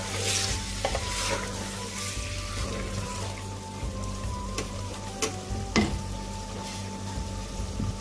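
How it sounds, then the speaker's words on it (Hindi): Steady sizzling of chicken frying over high flame in a hot pan, with occasional stirring scrapes and clinks over a constant low hum. "देखिए हमने चिकन को अच्छी तरह भून लिया है।"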